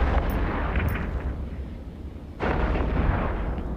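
Weapons fire in an EVE Echoes space battle, a dense rumbling barrage of booms with two brief sharp cracks early on and a heavier burst swelling in near the end.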